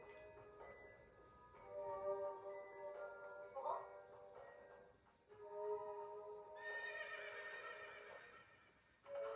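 Horse neighing in the Princess Peach: Showtime! video game, a clear whinny with harmonic tones rising and falling over several seconds, moderately loud amid game sounds.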